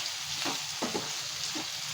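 Bitter gourd curry with mustard paste sizzles and fries steadily in a pan, with soft stirring scrapes repeating over the constant hiss, close and moderately loud.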